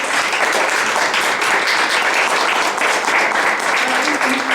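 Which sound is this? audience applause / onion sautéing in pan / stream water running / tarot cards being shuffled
audience applause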